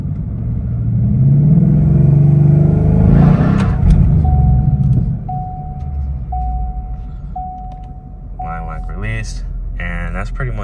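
A manual Ford Mustang GT held on line lock for a burnout gives a loud rumbling engine roar that swells and fades, then a repeating electronic beep and some louder bursts near the end.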